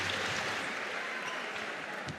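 Crowd applause at a French ProA basketball game between AS Monaco and Rouen as a player leaves the court, a steady dense wash of clapping and arena noise throughout, broad and continuous at moderate distance.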